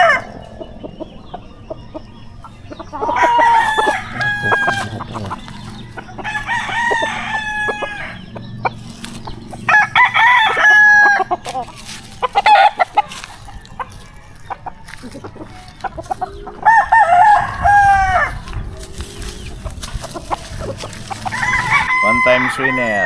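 Gamefowl roosters, including a six-month-old Brown Red, crow repeatedly on a backyard farm, loud nearby calls coming every few seconds with clucks and scattered farmyard noise between them.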